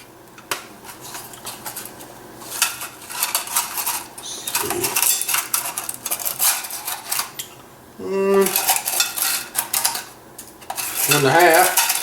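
Minced garlic is stirred into a marinade in a pan, giving repeated clinks and scrapes of a utensil against metal, loud and close, with short pauses between bursts.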